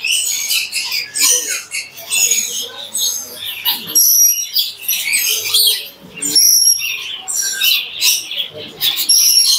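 Many birds chirp and squawk in dense, overlapping calls at a fish and pet market, close and loud throughout with short gaps.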